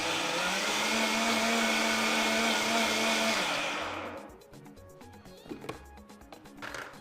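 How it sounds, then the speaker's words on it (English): A kitchen blender whirs loudly and steadily while blending Malta Guinness for a drink, then spins down and stops after about four seconds, leaving faint clinks and handling noises. "And then I'll blend."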